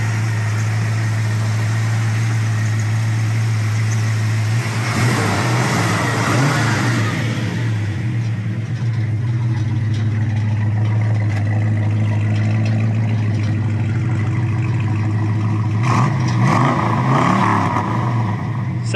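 A 1974 Dodge Charger engine idles with a steady low rumble, revving up twice, around the middle and near the end; a voice is briefly heard.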